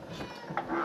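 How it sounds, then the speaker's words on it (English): A brief, soft cat meow rises near the end of a short stretch of steady indoor background noise. "Listen to my kitty as she meows"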